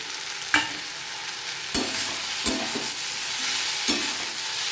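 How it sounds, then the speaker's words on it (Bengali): Hilsa fish head frying in hot oil with turmeric for a Bengali water spinach chachchari, a steady sizzle broken by a few sharp stirring scrapes of a spatula in the pan, close and alone. "এবার আমি মাছের মাথাটা দিয়ে দেবো।"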